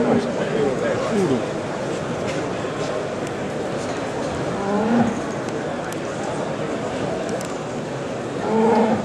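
Young cows mooing at a cattle show, several drawn-out moos at different moments over a crowded, noisy hall background, with a loud one near the end.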